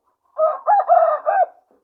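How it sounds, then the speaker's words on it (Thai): A single rooster crows nearby, a clear multi-part call lasting about a second, with quiet surroundings before and after. "อันล่างนี่ก็มีไก่"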